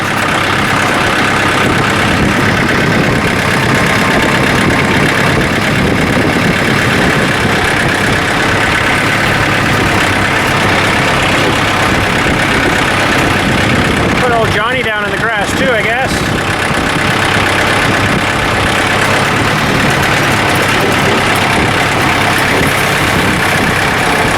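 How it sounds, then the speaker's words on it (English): A heavy tractor of roughly 7,500 pounds runs in high range at low RPM, a loud, steady engine drone that continues throughout, briefly disturbed by a short clatter midway. "about the heaviest tractor we're going to drive today is this one."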